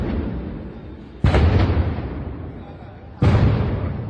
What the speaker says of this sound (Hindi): एक के बाद एक सिलेंडरों के फटने से